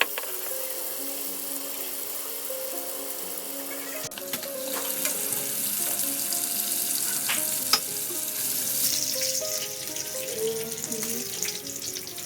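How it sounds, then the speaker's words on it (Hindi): Tomato paste frying with splashes of water in a pan for fish biryani, a steady sizzle with stirring and clinks of a utensil, growing louder and busier in the second half, close and with no talk. "2 टेबलस्पून इसमें टोमेटो पेस्ट शामिल किया और थोड़ा थोड़ा पानी डालकर अच्छे से इसकी भुनाई कर ली।"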